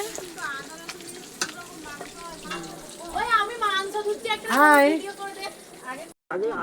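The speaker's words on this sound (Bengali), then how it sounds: "এখানে আমার পিসি মাছ ভাজছে।" Fish frying in a pan in a home kitchen gives a continuous sizzle, with voices talking loudly over it for most of the stretch.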